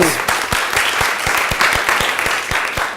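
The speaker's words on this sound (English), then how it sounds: "Big round of applause" An audience applauds for a speaker, loud close clapping from many hands with a steady rhythmic beat running through it, sustained for several seconds.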